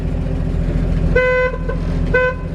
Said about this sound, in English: And then if I turn it, which you just heard it honk, there it goes.